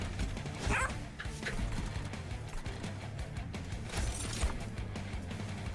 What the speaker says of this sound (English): Puppy dog.